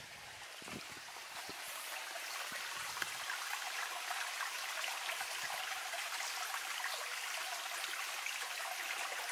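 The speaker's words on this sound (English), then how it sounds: "The babbling brook, listen." A babbling brook in a combe near Bicknoller flows continuously, a steady bright rush of water with small trickles and splashes, heard alone outdoors.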